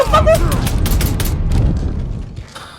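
Rapid gunfire bursts from the Mafia 3 video game crackle through a chaotic firefight, overlapping with loud shouting voices and dense explosive rumble throughout.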